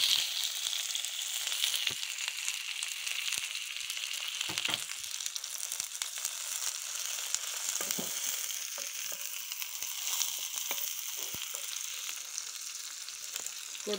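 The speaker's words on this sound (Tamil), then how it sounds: "நறுக்கி வச்ச பெரிய வெங்காயத்தை போட்டுக்கலாங்க." Chopped large onions fry in hot oil seasoned with mustard seeds, followed by green chillies, for a potato masala to go with poori. A steady, dense sizzle runs throughout, with occasional stirring scrapes and no talking.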